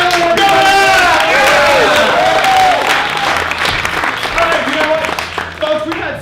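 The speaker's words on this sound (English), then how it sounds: "Round of applause for Taylor." A live audience at a comedy-style game show breaks into a round of applause and crowd noise, loud at first and tapering off, with a host's voice talking over it.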